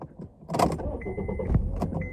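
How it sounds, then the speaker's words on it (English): A car starting up inside the cabin, with a short cranking burst, a few clunks and a steady hum settling in, close and moderately loud with no talking. "Let me start my car because my battery, I don't want it to die mid-video."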